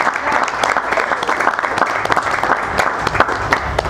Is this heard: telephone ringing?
no